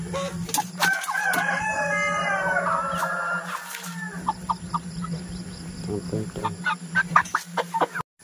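Several meat-type chickens cluck and a rooster crows nearby on a poultry farm at harvest, with busy overlapping calls over a steady low hum, growing choppier toward the end.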